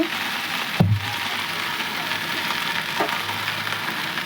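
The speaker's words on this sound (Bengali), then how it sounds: "লাল শাকগুলো আমি এর তেলের পরে ছেড়ে দিলাম" Red amaranth greens hitting hot oil, starting with a sharp thump and burst, then a steady sizzle and crackle that stays even to the end, no talking.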